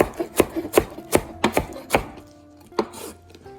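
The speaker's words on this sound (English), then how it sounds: "We're gonna chop up some cilantro here for the topping to go on top of the shakshuka" A knife chops fresh cilantro on a cutting board for a shakshuka topping, about a dozen crisp, uneven knocks in quick bursts with brief pauses, close and clear with no talking.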